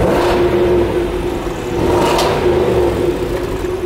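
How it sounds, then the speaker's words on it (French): A Range Rover SVR engine, modified, given a few light throttle blips, a loud close rumbling rev rising and falling over a steady idle, with no talking. "Mets 2-3 coups de gaz léger."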